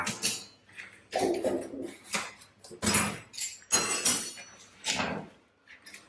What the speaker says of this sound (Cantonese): 咁我先打開呢個金錢眼